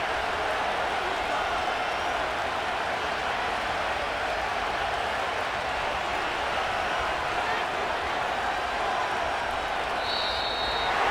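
A steady, loud roar from a stadium crowd in a simulated Chiefs versus Eagles football game, a constant unbroken wash of noise with no talk.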